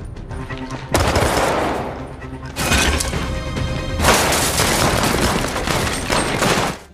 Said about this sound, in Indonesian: Setelah itu, aksi baku tembak pun terjadi.